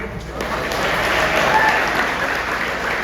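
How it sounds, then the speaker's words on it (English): A warm round of applause from the audience at a boys' youth football academy team banquet, steady and sustained, with a crowd clapping together throughout. "So give them another round of applause."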